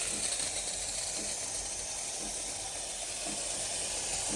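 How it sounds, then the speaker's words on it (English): Steady, close hissing from the single-hole steam wand of a HiBREW H10 Plus espresso machine steaming milk, a continuous airy rush with a faint low gurgle underneath and no voices. "The single-hole steam wand is powerful enough for creating microfoam suitable for latte art."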